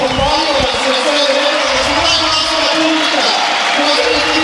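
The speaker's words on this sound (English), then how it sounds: "Molim vas još jednom aplauz." Stadium crowd at the Serbian motorcycle Grand Prix before the SuperPole session, a loud continuous wash of applause and cheering with a voice over the roar.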